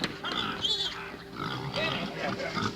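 Several pigs in an old cartoon oink and grunt in short repeated bursts at moderate volume, under faint background sound.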